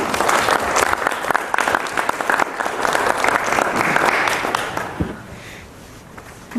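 Warm applause from an audience at a Mexican environmental policy forum, dense and sustained for about five seconds before thinning into scattered claps and a quiet murmur.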